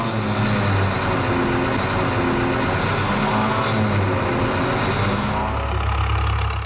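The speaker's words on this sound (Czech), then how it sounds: "Teraz si ukážeme rozjazd samostatného rušňa." A standalone locomotive engine rumbles near and loud, its revs rising and falling in a few pulses, then deepening into a heavier steady drone as it starts moving.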